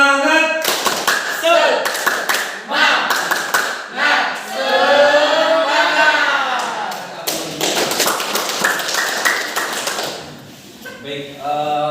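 A group performs tepuk semangat, a rhythmic clapping icebreaker, in a classroom: sharp patterned claps and taps in bursts, with people chanting along between and over the beats.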